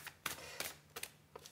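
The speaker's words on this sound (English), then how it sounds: "So it's asking me to shuffle one more time." Tarot cards are shuffled in quiet, brief riffling bursts, three or four soft flutters close by with short pauses between them.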